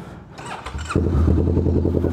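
A motorcycle engine cranks and catches, then settles into a steady, close idle with a regular pulsing rhythm.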